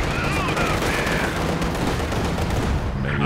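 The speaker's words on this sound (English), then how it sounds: "Rocket artillery." Soviet rocket artillery firing in a Company of Heroes 2 2v2 match, a continuous roar of launches and distant rumbling blasts with faint whooshing streaks running throughout over steady battle noise, with brief commentary.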